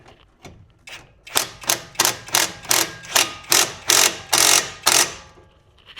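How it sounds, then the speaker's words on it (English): An impact gun tightens a suspension bolt near the spindle during coil-over replacement on a 2003-2008 Toyota Corolla, Matrix or Pontiac Vibe. It fires about ten loud, evenly spaced rattling bursts up close, with no talking. "We're going to turn the spindle a little bit so we can access that bolt a little better with the impact gun."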